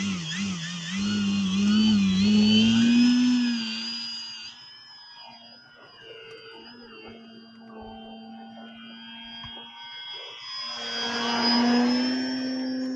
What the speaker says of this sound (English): Let me tell you right away that this is a fantastic RC airplane to fly.